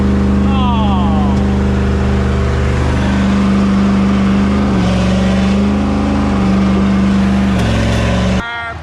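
A Ford car stuck and rocking free, its engine revving hard and steady with strong low harmonic tones that rise and shift in pitch, loud and close, with excited voices talking over it before the sound cuts off.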